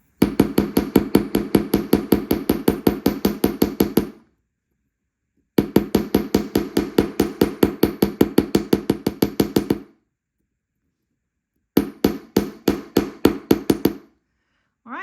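Rapid metal hammer strikes on a steel bench block, flattening handmade wire necklace pieces, land in three loud, close bursts of steady even blows separated by brief pauses.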